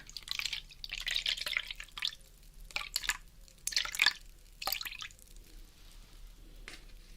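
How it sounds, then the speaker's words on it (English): Distilled water dripping into an ear during an ASMR ear-cleaning roleplay: a run of close, wet drips and soft squishy trickles in irregular clusters, fading toward the end over a quiet background. "First, the distilled water."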